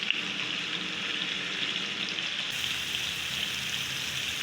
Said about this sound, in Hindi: तेल को ज़्यादा गर्म नहीं करेंगे, बस ऐसे इसको डाल देंगे और आहिस्ता आहिस्ता ये पकती रहेगी।